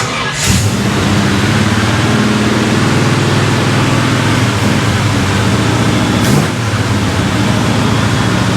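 A 1955 Chevy Bel Air engine with a new carburetor running at a steady high rev, loud and close, with a constant droning hum and brief whooshing surges.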